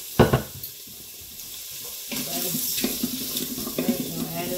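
Canned beef broth and tomato juice poured into a cooking pot, a close liquid glugging and splashing stream after a couple of clunks, running steadily with soft bubbling.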